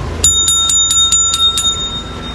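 Bell rung aboard a boat during a party regatta, with about seven bright, evenly spaced metallic dings ringing out close and clear over low background noise.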